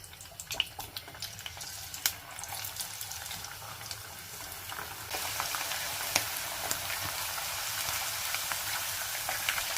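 A second batch of homemade potato crisps dropped into hot oil, a crackling fry with scattered pops that swells into a denser, louder sizzle halfway through, close by with no talk.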